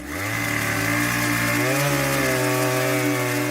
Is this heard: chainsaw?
yes